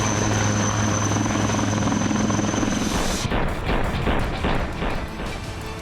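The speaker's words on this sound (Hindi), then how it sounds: "देश की रक्षा ताकत में नई ऊर्जा भरने वाला हेलीकॉप्टर ध्रुव एक बार फिर उड़ान को तैयार है।" An HAL ALH Dhruv military helicopter flies with a loud, steady rotor and turbine roar, then shifts into a pulsing rotor beat as it passes close by, with no talk.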